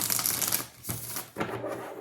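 Tarot cards are shuffled by hand in three quick riffling bursts separated by short pauses, close and crisp.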